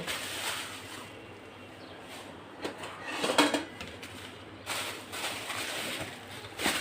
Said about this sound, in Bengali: মাছগুলো ঢেলে নেই